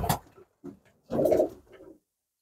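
Pigeons coo in a loft while a breeder handles the birds: a short coo, a brief pause, then a louder, longer rolling coo and a softer trailing one, all close by with no talk over them.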